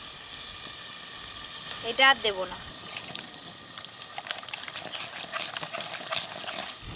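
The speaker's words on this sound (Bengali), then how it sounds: "ইলিশ মাছ ভাজার যে তেলটা আছে পুরোটাই মশলার উপরে দিয়ে দেবো।" Hot mustard oil, left over from frying hilsa fish, is poured over ground cumin, mustard and chilli paste and sizzles in a brief loud crackle, with someone talking over it.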